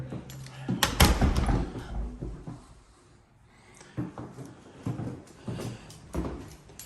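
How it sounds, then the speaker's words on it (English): Interior doors being shut in an older house, a few hollow thumps and knocks spread across the stretch, close by in a quiet room with some handling noise between them. "And all these doors shut too over here."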